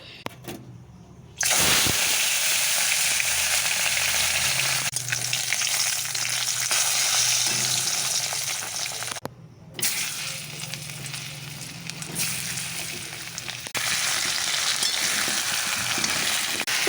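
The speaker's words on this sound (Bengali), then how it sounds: "এখানে কড়াতে মাংসটা দিয়েছি ভাজার জন্যে" Meat frying in hot oil in a wok after onions, giving a loud, steady sizzle with stirring scrapes and two brief pauses.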